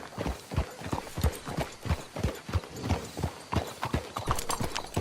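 Horse hooves clip-clop steadily on the ground in Red Dead Redemption 2, a close, even walking rhythm of repeated hoof strikes with little else heard.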